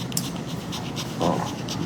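A dog pants steadily up close, with quick rhythmic breaths that go on throughout.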